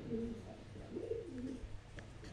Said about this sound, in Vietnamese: những cái cặp chim bồ câu đây này, những cái lồng bồ câu này đi